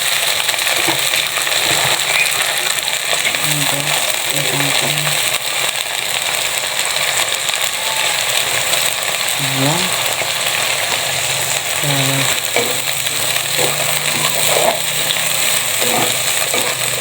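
Kangkong stems stir-fry in a pan with a constant loud hiss of hot oil, joined now and then by scrapes and taps from a stirring utensil.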